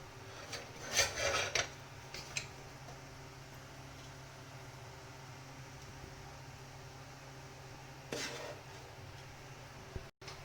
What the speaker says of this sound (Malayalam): 3/4 ഭാഗം ചോറോളം വേറൊരു പാത്രത്തിലേക്ക് മാറ്റുക